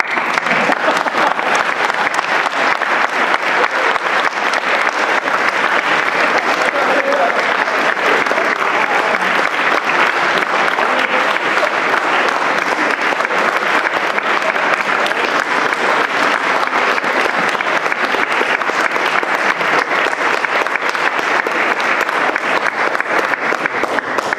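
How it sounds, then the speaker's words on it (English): A large audience applauds loudly and continuously at an event, a dense, unbroken wash of clapping hands that holds steady for the full length without letting up. "You can clap again."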